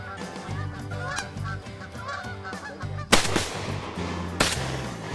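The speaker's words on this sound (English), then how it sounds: "The Boys get ready, crouching down low as the geese come directly overhead." Several geese honk repeatedly overhead, a loud sharp pop cutting in twice; no voices.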